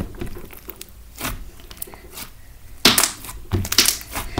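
Slime is mixed and squished by hand, making wet crackling squelches and sticky pops in uneven bursts. It is close and fairly loud, with sharper squishes toward the end.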